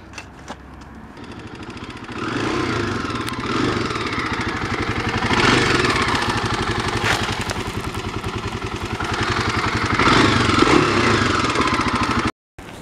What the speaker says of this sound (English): we have some leaf blower action and a ceiling fan, it would appear